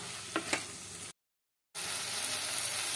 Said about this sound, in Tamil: நம்ம அந்த அந்த கரண்டியை வச்சு நம்ம நல்லா அதை வந்து எடுத்து எல்லா இடமும் போய் சேர்ற மாதிரி நல்லா மிக்ஸ் பண்ணி விட்டுடலாம்